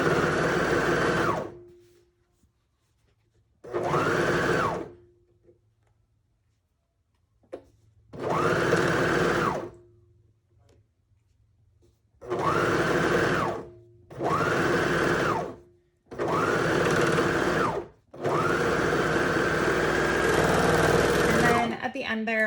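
A serger stitches fabric straps in six loud, sustained whirring runs, each lasting one to a few seconds with brief quiet pauses between, ending in a longer final run.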